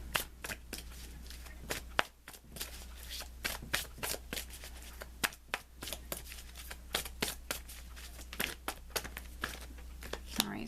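Tarot cards shuffled by hand for a guidance pull, a rapid close crackle of riffling and flicking card edges that runs continuously with brief pauses, over a low steady hum.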